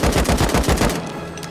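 Rapid automatic AK rifle fire in the game Rust rattles out in a loud, close burst of about eight shots, then stops abruptly, leaving a faint ringing tail.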